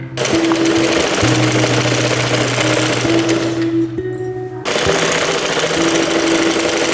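A sewing machine stitches a fabric strip onto trouser fabric, running in a loud close rapid whir, briefly stopping near the middle, then resuming at full speed.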